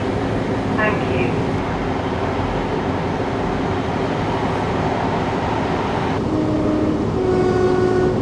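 Steady rumbling of a passenger train bound for Barry Island in Wales, heard from inside the carriage, with a brief tonal chime near the end.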